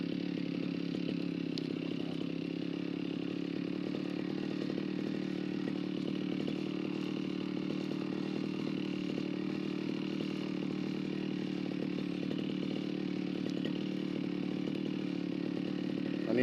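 A petrol grass cutter runs continuously while clearing grass along a rice paddy dike, giving a steady, even engine drone that is moderately near and holds the same pitch throughout, with no talking.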